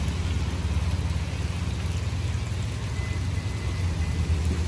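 Steady rain pours down during a thunderstorm in North Florida or South Georgia, a dense, even hiss with a low rumbling undertone, constant and fairly close.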